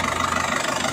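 An Isuzu Panther diesel engine idles at about 1000 RPM during an injector purging treatment, a steady, loud, even drone with a faint rapid pulsing texture and no speech.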